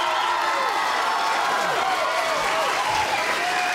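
Studio audience at a Countdown rock TV show applauding for a band, dense steady clapping from a crowd with faint cheering, continuous and fairly loud.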